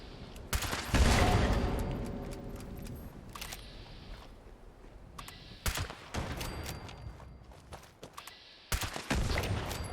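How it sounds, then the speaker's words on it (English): The Far-flung Fireworks weapon fires in Fallout 76, loud crackling bursts and bangs coming in irregular clusters with short quiet gaps between volleys. "Far-flung fireworks are doing me dirty there."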